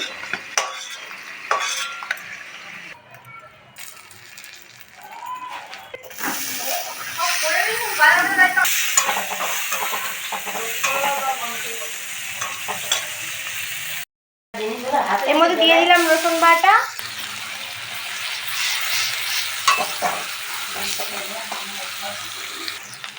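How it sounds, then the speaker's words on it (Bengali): Onion and garlic fry in a pan with a soft, continuous sizzle, mixed with stirring scrapes and a running tap, while someone talks over it for most of the stretch. "পেঁয়াজ রসুনটা ভাজা হয়ে গেছে"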